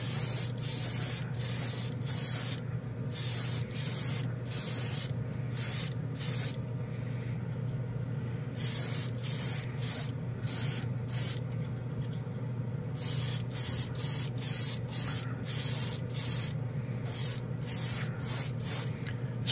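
A Gaahleri airbrush sprays primer onto a blue plastic model car kit in short bursts of bright hiss separated by brief pauses. A steady low hum from the compressor runs underneath, and no one speaks.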